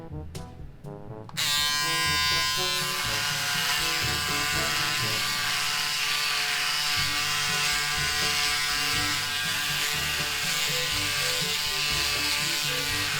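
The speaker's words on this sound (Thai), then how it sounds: "ตัวนี้ก็สามารถโกนแบบเปียกได้นะครับ" A Braun Series 6 electric shaver wet shaving with cream: after a few short clicks, a loud, steady, close motor buzz runs without a break to the end.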